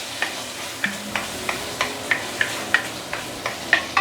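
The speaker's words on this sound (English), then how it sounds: "Saute this for a minute or 2 before we continue." Coriander, garlic and chili sauté in a pan, a soft continuous sizzle marked by a regular series of light clicking taps from a utensil against the pan, close and fairly quiet.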